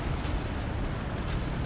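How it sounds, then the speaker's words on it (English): An artillery barrage in the video game Company of Heroes 3, a dense, continuous rumble of booming explosions that sits close and loud throughout the short stretch. "just vomiting out a artillery barrage like that is actually"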